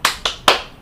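A classroom group performs a rhythmic spirit clap: three sharp, loud claps in an uneven pattern, the third the strongest, each decaying quickly with no talking.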